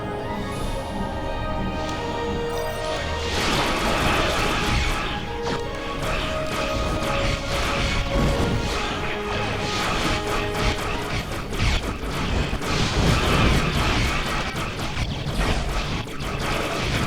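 Starship weapons fire crashes and clanks continuously in a Star Trek Online space battle, with dense layered impacts and mechanical bursts at steady high loudness, game music and effects filling the background.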